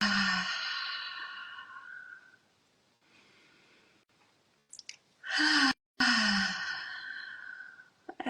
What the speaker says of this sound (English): And just take a few deep breaths.